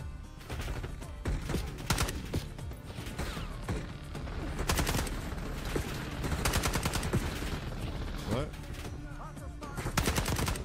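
Minigun gunfire in Call of Duty Black Ops 6 comes as repeated rapid bursts of loud automatic fire over a busy combat background, with some scattered voices amid the shooting.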